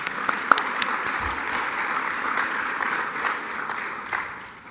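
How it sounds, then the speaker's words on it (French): Audience at a university event in a cultural centre hall applauds steadily, a dense, even wash of many hands clapping for several seconds, a few louder claps near the start, tapering off toward the end. "Donc, merci au Centre culturel, on peut les applaudir."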